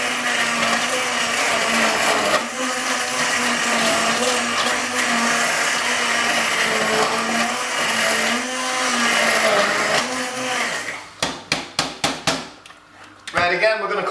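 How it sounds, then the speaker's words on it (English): A blender whirs continuously while blending curry sauce, a loud close motor drone with shifting pitch, then stops into a few clattering knocks and bumps at the end. "Right, back in with the blender."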